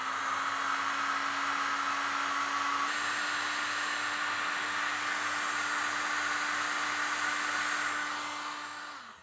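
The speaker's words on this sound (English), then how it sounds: "blasting it with a heat gun so that it turns leather hard" A heat gun blasts steadily over a clay pad, a loud, even hot-air roar with a constant whine, running uninterrupted before tapering slightly at the very end.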